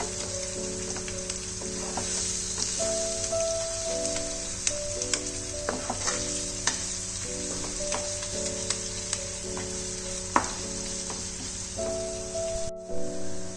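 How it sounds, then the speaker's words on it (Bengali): Onion and spices fry over medium heat for a fish dish, a close continuous sizzle broken by frequent utensil clinks and scrapes as they are stirred, with a steady tonal hum beneath and no talk. "এবার এগুলোকে ভালো করে মিডিয়াম হিটে আমি কষিয়ে নেব, যাতে কাঁচা মশলার গন্ধটা না থাকে।"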